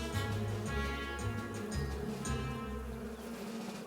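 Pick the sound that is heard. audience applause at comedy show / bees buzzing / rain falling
bees buzzing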